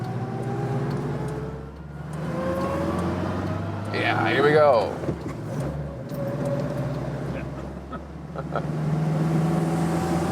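A vintage Seat 600 D small car engine revving while driving, a steady low drone that rises in pitch as the throttle opens, with a voice talking over it near the start.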